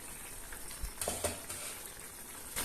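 Local chicken curry bubbles faintly in a covered pot, a soft continuous simmer with scattered small pops and lid clicks.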